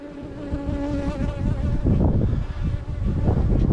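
Honey bees swarm around a heavy, nectar-filled hive frame, their dense, steady buzzing holding throughout with a few louder passes close by.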